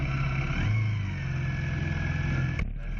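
Several Formula 4 racing motorcycles, including a Honda VFR400 and a CBR250RR, rev hard at the start of a 2015 Southern Downs Series race, a loud sustained engine roar with one sharp rise in pitch partway through.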